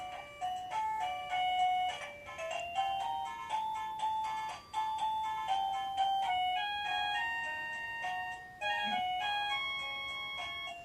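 A Roybens musical doorbell chime plays a bright electronic melody of clear bell-like tones, note after note in a steady tune that restarts several times, close and moderately loud with no talking.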